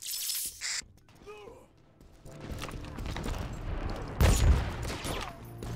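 Gunfire in the multiplayer shooter BRINK, with scattered shots and a louder burst near the end mixed with busy game noise and a brief voice.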